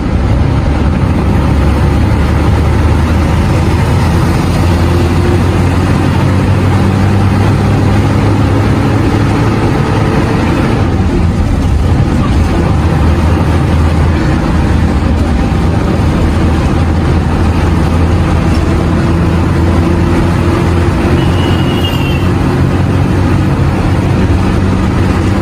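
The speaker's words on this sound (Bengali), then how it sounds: "এখন আমাদের গাড়ি ছুটে চলছে ঢাকার উদ্দেশ্যে।" A bus engine drones steadily as the vehicle drives along the road toward Dhaka, a loud continuous low rumble with road noise and no pauses.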